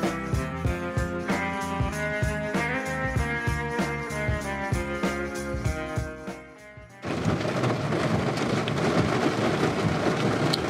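A rain shower over an outdoor in-ground pool plumbing job. A steady, dense hiss of rain begins abruptly after a rhythmic, tonal passage and continues to the end.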